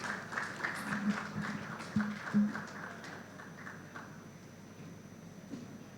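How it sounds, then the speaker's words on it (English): Audience applause at an afternoon impact event, with a few louder claps up front giving way to a fading, thinner patter of clapping, fairly distant and soft. "can we give a round of applause as we make welcome Boluwaji Akinlade."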